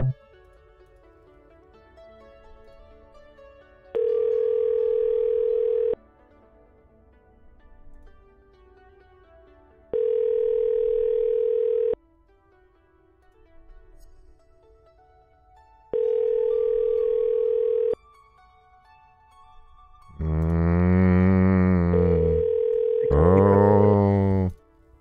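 A telephone ringback tone plays in three evenly spaced steady beeps while a call waits to be answered, followed by a louder, warbling electronic tone pattern near the end.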